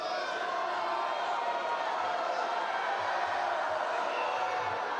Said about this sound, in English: Something went on that the crowd didn't like